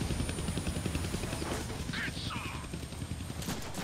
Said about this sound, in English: I can't kill that chopper with my guns